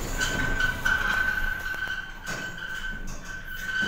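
A passenger lift rated for 1,000 kg or 15 persons descends with a steady, close mechanical hum and a thin sustained whine, the motor drone dipping slightly partway through, with no talking.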